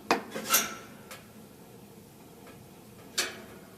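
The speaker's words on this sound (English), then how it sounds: "you could hear when I did that, it started ticking again, meaning it's getting hotter" A few sharp metallic ticks and clinks ring out at uneven intervals from a Quadra-Fire wood-burning stove as it heats up, separated by quiet stretches of low background noise.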